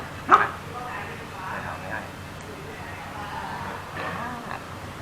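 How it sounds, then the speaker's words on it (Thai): During a dog fight, dogs give a sharp close bark at the start, followed by scattered yips and whimpering barks over a low background murmur. "เราก็ต้องหยุดให้มันหยุดเห่าก่อน"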